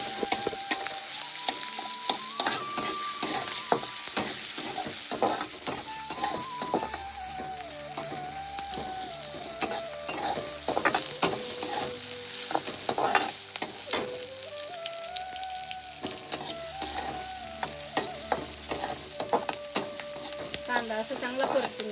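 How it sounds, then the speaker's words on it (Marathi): Onion and cumin sauté in hot oil in a village kitchen, giving a steady loud sizzle with frequent scraping stirs, while background music plays throughout. "तेल तापलं ना, जिरे टाकू. नंतर कांदा टाकू. कांदा परतून घ्यायचा असं जरा."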